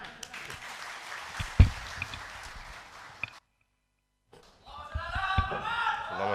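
Audience at a Mujadalah Kiai Kampung gathering in Malang gives faint, distant applause welcoming a special guest. It breaks off into a brief silence, and a voice then resumes.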